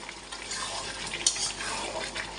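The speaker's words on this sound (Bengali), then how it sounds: "দেখুন বন্ধুরা কত জল দিচ্ছে" Water pours into a pot of chicken curry for a chicken bhuna, making a steady, moderately quiet splashing stream throughout, with a brief brighter splash midway and no talking.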